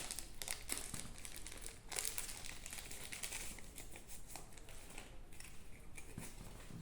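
Plastic packaging of a Korean Rocket card bundle crinkles and tears up close, with a continuous rustle and brief sharper rips throughout.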